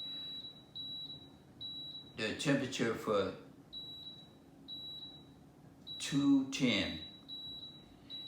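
Buttons on a Power XL cooker are pressed to set the slow-cook temperature and timer. A run of short, evenly spaced electronic beeps repeats while someone talks over and between them.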